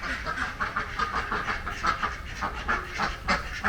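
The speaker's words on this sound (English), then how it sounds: "Oh, look, James, the ducks are hopping out of the water to go up to the bar." Repeated honking quacks of ducks at a resort pool in Bali, a steady rhythmic chorus close by with no voices, continuing throughout.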